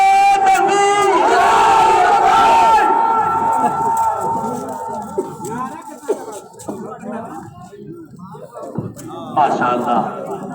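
A crowd in a mosque gathering answers a leader's Nara-e-Takbir call with a loud, massed shout, then quieter crowd noise follows with scattered voices and a second brief swell of shouting near the end.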